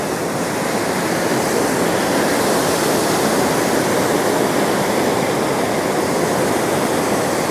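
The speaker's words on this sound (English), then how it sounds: "So this is the overflow weir." Floodwater pours over the overflow weir on the flooded River Soar, making a loud, steady, broadband roar that holds unbroken and close for the whole stretch, with no voices.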